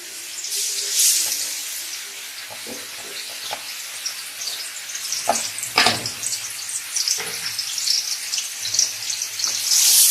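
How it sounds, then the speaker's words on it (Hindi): Chopped onions frying in hot ghee, a bright, continuous sizzle with irregular crackles and occasional scraping knocks of stirring, fairly close and with no talking. "यहाँ पे हम घी गर्म करने के लिए हमने रखा है, वो अच्छी तरह से गर्म हो चुका है। अब शामिल करते हैं इसमें प्याज।"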